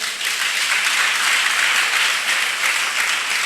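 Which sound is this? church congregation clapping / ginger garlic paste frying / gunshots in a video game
church congregation clapping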